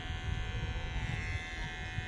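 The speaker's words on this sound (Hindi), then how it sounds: "तो देख सकते हैं हम लोग का ये ट्रिमर," A new electric hair trimmer buzzes steadily while cutting a friend's hair indoors in a room, a close, continuous motor hum with slight fluctuations as it moves through the hair.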